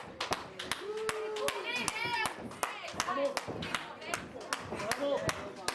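Sharp, distinct hand claps ringing out at a wrestling show, spaced irregularly and close by, with voices and chatter talking beneath them throughout.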